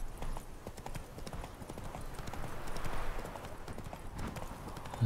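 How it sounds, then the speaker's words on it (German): Horse hooves clip-clopping at pace in the video game The Witcher 3: Wild Hunt, a steady rhythmic patter of hoofbeats at moderate volume with ambient game sound. "Das Pferd."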